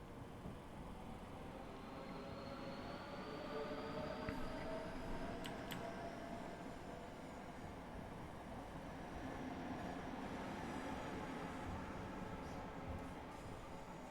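A video game Networker electric train motor drones and thrums steadily under full power, a continuous mechanical roar with a rising whine and clattering rumble beneath.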